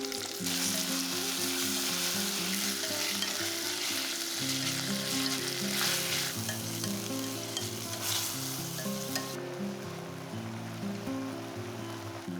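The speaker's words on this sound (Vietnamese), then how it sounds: "Khi hành tỏi đã dậy mùi thơm thì tiếp tục cho ốc đã ướp vào xào." Marinated snails stir-fry with garlic and shallots in a clay pot, a steady loud sizzle with stirring scrapes throughout, over soft background music and no talking.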